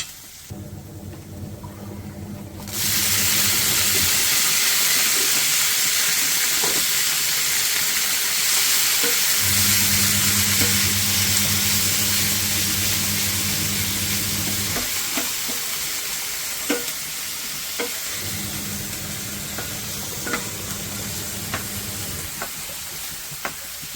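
Ginger, garlic and chilli sauté in hot oil for a veldt grape thogayal, a loud continuous close sizzle with spatula scrapes and occasional clinks, while a low burner hum comes and goes underneath.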